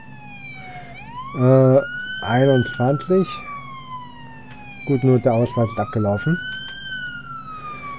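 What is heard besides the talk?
police car siren in Police Simulator video game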